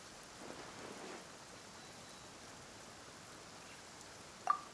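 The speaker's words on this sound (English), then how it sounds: "Perhaps today's rain arrived thanks to you." Rain falling in the Genshin Impact game, a faint, even hiss of steady rainfall with no talking, broken only by a brief sharp sound just before the end.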